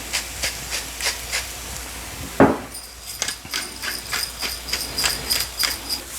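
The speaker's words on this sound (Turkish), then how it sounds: "çok sıcak bir tavam var burada ve yavaş yavaş mantar püremi tavaya ekliyorum" Mushroom purée for a Beef Wellington hits a very hot pan with a sudden loud hiss partway through, then settles into a pulsing, crackling sizzle close by. Soft rhythmic steam bursts come before it, with no talking.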